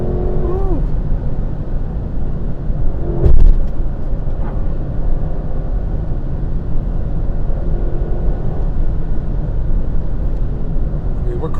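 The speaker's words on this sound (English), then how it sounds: "Cruising at 100 miles an hour right now" Lexus LC500 convertible cruising at 100 mph, a steady engine drone mixed with wind and road roar from inside the cabin, with someone talking over it.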